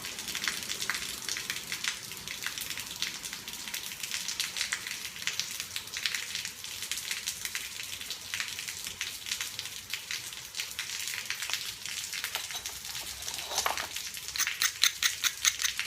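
Rain falling outdoors onto a surface, a steady soft crackling patter throughout, with occasional small taps and no voices.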